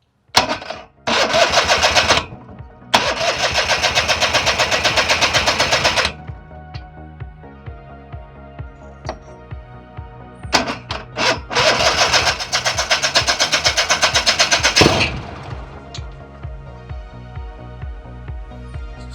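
A vintage hovercraft's large engine, started for the first time in 25 years, cranks and sputters to life, running loud and rough with sharp backfire-like pops before idling lower and revving again.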